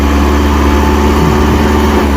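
A tractor engine labours loudly and steadily under heavy load while climbing an incline, a continuous low rumbling drone with no break and no voices.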